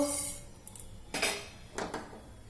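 Mustard seeds popping in hot oil for a Telugu carrot fry, with a few quick, close crackles and taps spaced over a quiet background.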